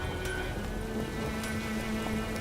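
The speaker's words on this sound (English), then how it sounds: "It's pouring like this on the Baltic." Heavy rain pours in the Witcher 3 video game, a soft, continuous hiss with no voices over it.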